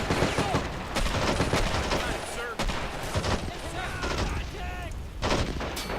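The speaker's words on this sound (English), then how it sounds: "machine gunner there shooting" Machine gun fire in the World War II strategy game Men of War: Assault Squad 2, a busy battlefield mix of dense rattling bursts and distant explosions running steadily throughout, with faint voices and radio chatter mixed in.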